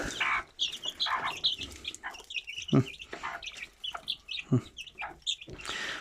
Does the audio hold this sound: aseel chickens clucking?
yes